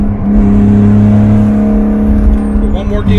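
A turbocharged BMW E36 engine drones loudly from inside the car, a steady harmonic tone holding pitch before shifting near the end, with a voice speaking over it.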